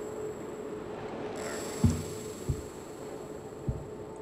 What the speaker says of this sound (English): Hear that humming?